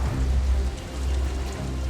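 Steady rain falls across an idle construction site in Manhattan, a continuous close wash of drops with no voices or machinery.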